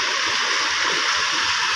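Floodwater swirling in eddies beneath the Kothavadi main bridge during heavy monsoon rain, a steady loud rushing roar of fast river current with no voices.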